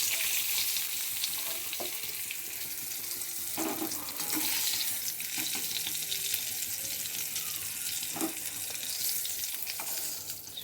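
Pieces of pointed gourd (potol) fry in oil in a pan, giving a steady close sizzle with occasional louder spatters and stirring clinks, with no voices.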